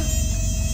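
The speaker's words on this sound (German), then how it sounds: "Ich hasse diese Geräusche von Schnaken. Oder Mücken, Stechmücken." Mosquitoes in the fantasy role-playing game Fable Anniversary buzz in a loud, steady, whining drone close by that persists throughout without any pause or speech.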